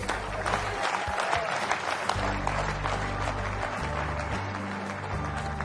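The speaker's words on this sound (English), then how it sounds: "Clap loud." An audience at a leadership talk gives loud, sustained applause, with dense and steady clapping filling the room from start to finish.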